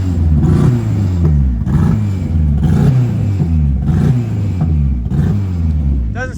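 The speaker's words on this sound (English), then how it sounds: "Car started misfiring really bad." A K24-powered all-wheel-drive Honda Civic race car engine runs loud and rough, misfiring with uneven pulsing surges and dips in its drone over several seconds.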